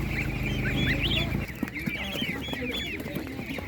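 Domestic chickens cluck and chatter close by at an animal market, a busy mix of short calls and squawks over a low rumble that drops away partway through.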